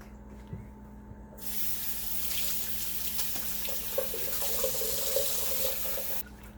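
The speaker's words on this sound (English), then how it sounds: "I'm just gonna wash my hands and use my fingers to mix everything together." Hands are rinsed under a running kitchen tap before mixing doughnut dough, a steady close hiss of splashing water lasting about five seconds after a short beep and faint clicks.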